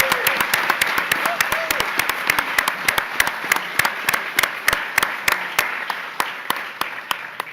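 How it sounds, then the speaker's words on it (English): Audience applause at a press event announcing a new hospital in Western New York, a dense, continuous burst of clapping with sharp individual claps standing out, steady across the whole stretch and easing slightly toward the end. "it deserves another round of applause"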